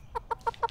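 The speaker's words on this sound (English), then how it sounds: "A chicken, that's right." A chicken clucks four times in an even, steady rhythm, each cluck short, close and clear against a quiet background, with no talking.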